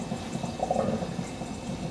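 Hot water from fully cooked boiled potatoes pours out through a colander in a steady, moderately loud splashing rush that lasts the whole moment, with no talking over it.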